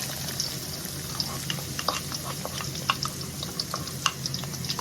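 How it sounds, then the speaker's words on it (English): Onions sauté in a pan with a low, steady sizzle and scattered pops and crackles. Occasional faint stirring scrapes sit close over the frying hiss. "Saute this for 5 minutes."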